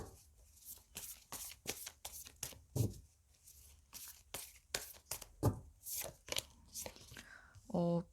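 Wild Unknown tarot cards being shuffled and a card drawn, a run of soft, close riffling and flicking bursts in an uneven rhythm, quiet, with a low voice speaking between them.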